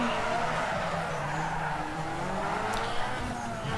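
Tires squeal in a sustained skid as a car drifts with the handbrake in Need for Speed Underground 2, layered over a droning engine, with steady screeching pitch lines running throughout.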